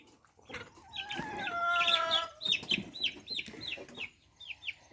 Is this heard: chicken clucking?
yes